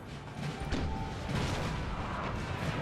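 Cannon artillery fire from a 12-pounder in the Napoleon Total War battle game appears as dense, continuous booming and rumbling battle noise, loud and sustained throughout with no clear separate shots or speech.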